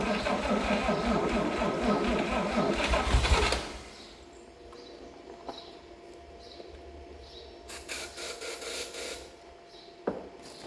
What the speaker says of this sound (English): now that we got some starter fluid in it, let's see if we get it fired up